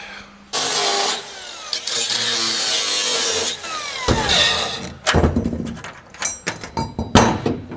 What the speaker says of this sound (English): Cut this trim out of the way first.